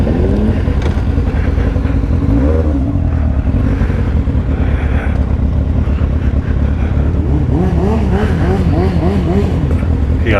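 Several motorcycles, including a Kawasaki Ninja, a Triumph and a Honda, revving and idling loudly nearby, engine pitch rising and falling in repeated sweeps, with wind buffeting the microphone.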